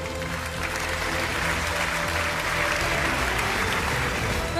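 Studio audience applause on a Hindi youth debate show, a dense, steady wash of clapping that holds at an even level from start to finish.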